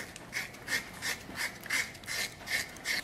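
A small knife scrapes burnt skin off a pork knuckle, making about seven short, rhythmic rasping strokes at an even pace, close and fairly quiet with no talking.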